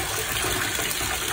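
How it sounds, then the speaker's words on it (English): Tap water running steadily over hands being rinsed after a bath bomb, a close, even gushing splash with no pauses. "Rinse it off."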